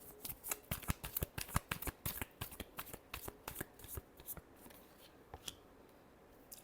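Tarot cards shuffled by hand in a rapid run of crisp riffling flicks, close and fairly quiet, thinning out toward the end with no talk.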